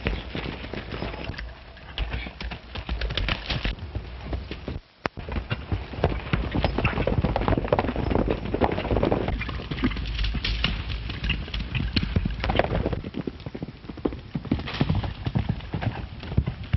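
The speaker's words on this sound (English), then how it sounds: "get on your horses, men. Saddle up." Galloping horse hooves clatter continuously, a fast drumming rhythm of many hoofbeats close by, with a brief break partway through.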